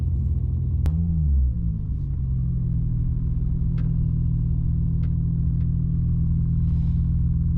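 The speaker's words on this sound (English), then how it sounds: "nice smooth burnout" A Toyota Supra at a drag strip does a burnout, giving a loud, close engine rumble that swells briefly, then settles into a sustained droning tone with faint sharp clicks.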